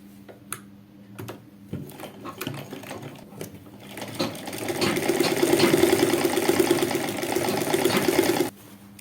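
Sewing machine stitching a straight seam along a women's trouser leg from hem to waist, starting with a few short bursts, then running as a steady close, loud mechanical whir for several seconds before stopping abruptly.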